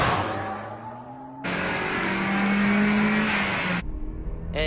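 A car from the anime Initial D races at speed, its engine drone loud and steady throughout, shifting pitch with a sharp cut partway and a rising whine near the end, with no talk over it.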